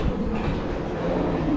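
A Russian train stands at a station platform, giving off a low, continuous rumble with faint rail clatter. Indistinct voices may be mixed in.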